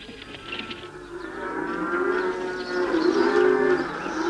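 Cattle and donkeys are herded through rough village streets in rural 1970s Turkey at early morning, with long, droning animal calls and bellows rising and swelling over a steady background bustle.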